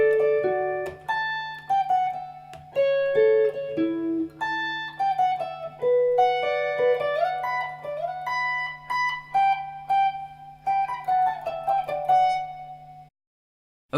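Guitar solo riff from a song, a clean melodic single-note line picked steadily over a sustained low drone, close and clear, ending in a held note and silence.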